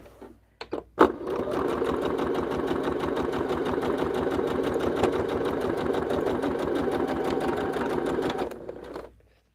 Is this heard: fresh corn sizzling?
no